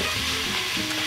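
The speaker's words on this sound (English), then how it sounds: "We're sauteing the onions, and they're starting to pick up that yummy goodness down here" Onions sauteing in an Instant Pot on saute mode, a dense, steady sizzle and crackle heard up close and fairly loud, alone without talk.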